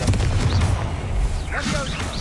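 A Confringo fire spell blast in Hogwarts Legacy, a loud booming burst with crackling impact and whooshing tail, heard up close with a voice speaking over the start.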